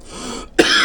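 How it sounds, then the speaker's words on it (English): A single harsh cough, abrupt and close, bursting out after a brief rasping breath, from a man still battling a lingering cough. "I'm still battling with a cough"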